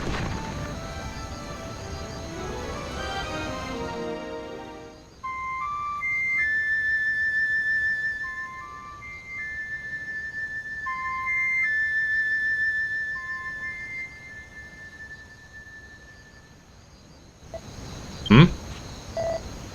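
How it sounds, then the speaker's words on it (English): A flute-like Echo Flute tooted in the video game Dragon Quest Builders 2, a few clear sustained melodic tones alone over a quiet game background, with a brief sharp sound near the end. "Give the Echo Flute a good hard toot."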